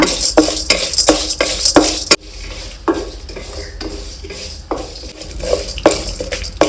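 Urad dal and chana dal frying in oil in a pan for curry leaf rice, with a spoon scraping and clicking in an irregular stirring rhythm over a steady close sizzle, no voices.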